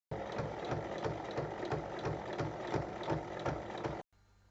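A sewing machine topstitches around the edge of a fabric snap-closure pouch, running steadily for about four seconds with a rhythmic, close mechanical rattle before stopping abruptly.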